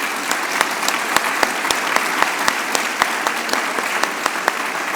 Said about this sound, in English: So please join me in the round of applause to Professor Frédéric and Yves.